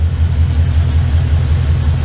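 A Ford Coyote V8 swapped into an 1989 Ford Ranger runs steadily at a loud, close idle with a deep, even rumble and no voices.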